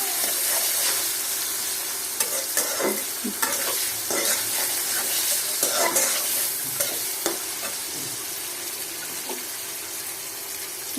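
Garlic frying in oil for a dried fish curry with radish and eggplant makes a strong, steady sizzle, with scrapes and clinks of stirring and a trickle of water at times.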